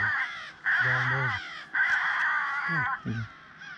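Several loud, close crows cawing in harsh, drawn-out calls during a crow hunt with a call, a few bursts separated by short gaps.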